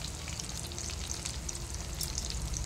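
Battered mirchi bajji chillies deep frying in hot oil, a steady dense crackle and hiss that runs without break, close and fairly loud, with no voices.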